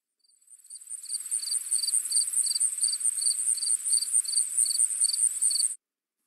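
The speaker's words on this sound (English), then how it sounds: "Listen, the crickets have stopped." Crickets chirping in a steady, evenly spaced rhythm of bright trills, loud and close, with silence before and after.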